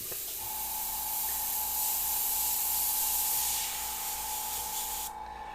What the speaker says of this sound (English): the AC I have in the window here is so loud because it's an ancient window unit